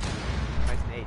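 A grenade explodes in a video game, a dense, rumbling boom of broadband noise filling the short moment, loud and close.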